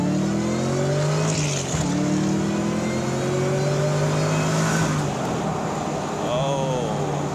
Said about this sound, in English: Let's test out the acceleration.